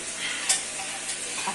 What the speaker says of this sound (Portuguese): Escutou o frigido da panela